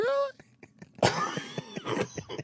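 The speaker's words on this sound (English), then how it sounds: "I knew the cough was coming." A harsh cough and throat-clearing burst breaks in after a moment of voice, followed by a few more rough throaty coughs, close and loud on a talk radio show.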